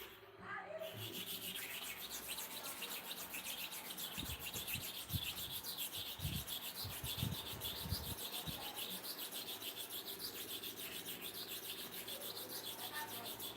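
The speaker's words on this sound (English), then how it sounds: "I now sharpen it on the whole surface of the stone again" A clipper blade rubs back and forth on a sharpening stone in a soft, steady rhythmic scrape, faint and close, with birds chirping in the background.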